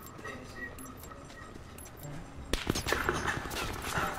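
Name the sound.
gunshots in Call of Duty Black Ops 4 video game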